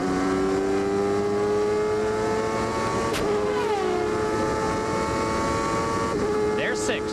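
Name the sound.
race car engine, CART 1995 Elkhart Lake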